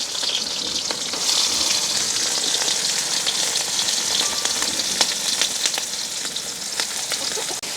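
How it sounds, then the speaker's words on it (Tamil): Onions and curry chillies saute in hot oil in a village kitchen, a loud continuous sizzle with sharp pops and crackles throughout, close to the pan and with nobody speaking. "நாங்கள் வட்டி வச்சிருக்கிற வெங்காயமும் கறிமிளகாயும் தான் முதல் வதங்க விட போகிறோம்"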